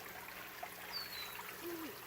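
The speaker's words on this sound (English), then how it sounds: "The water flows in at the top, flows down." Water trickles and dribbles softly and steadily down a vertical garden made from a cut drain pipe, with a faint broadband wash and a few small bubbling, gurgling chirps. The flow stays quiet and continuous with no voices.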